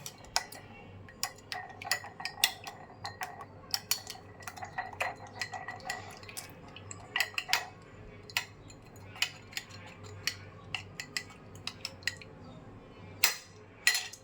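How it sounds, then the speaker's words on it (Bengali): A whisk or fork clicks rapidly against a bowl while eggs are beaten for kalo jam batter, a close, steady run of sharp ticking taps with brief pauses, no talking over it. "এখন আমি ডিমটাকে ফেটিয়ে নিলাম"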